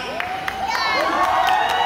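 A family reunion crowd claps and cheers for the green team, a short burst of applause with shouts and whoops carried over a host's amplified voice.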